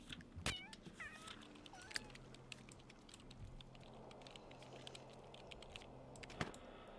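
Kittens in The Sims life-simulation game give several short, high mewing calls early on, faint and scattered over a quiet background of light clicking and soft taps.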